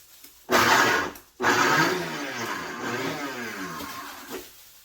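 A Vitamix blender roars into action on dry habanero peppers, a loud whirring burst that cuts briefly, then restarts and runs steadily before easing off, with no voices.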